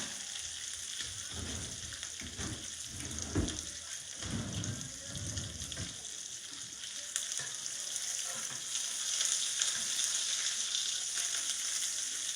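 Salmon fillets fry in a hot pan, giving a dense, steady crackle and splatter with brief heavier spits early on and a constant hiss that carries through the whole stretch without any talking.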